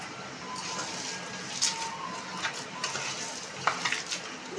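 Chopped cashews and raisins frying in a pan for malai echor kopta, a steady soft sizzle with light scraping stirs and small clicks of a spoon against the pan, close and quiet, with no talk.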